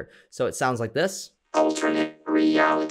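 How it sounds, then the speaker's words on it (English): A short spoken phrase passes through a vocoder in a melodic techno production, giving it a buzzy, robotic, pitched tone in two clear bursts separated by a brief gap. "This is just like this kind of cool vocal effect that you can use with a vocoder."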